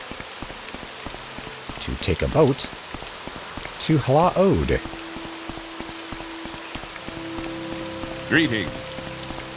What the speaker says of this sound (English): In this lovely, lovely downpour.